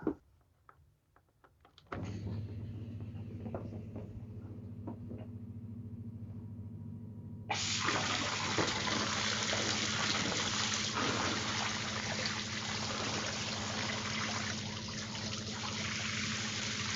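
Steady hissing spray of water from a garden hose begins after a couple of seconds, then grows louder and brighter midway, continuing without pause; no voices.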